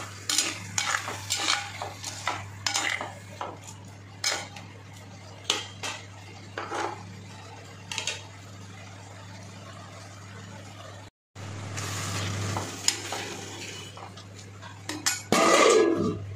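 Tapioca (cassava) gravy being stirred in a pan, a spoon scraping and clinking against the metal in repeated bursts, close and fairly quiet over a steady low hum, with a louder rattling stretch near the end.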